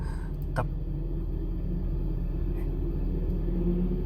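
Lightning sprint race cars running at I-76 Speedway, a steady low engine rumble heard from a distance, continuous and even throughout.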